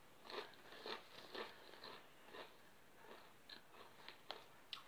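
Cheese and onion crisps being eaten, with repeated crunchy bites and chewing close to the microphone, quiet and irregular, with no talk.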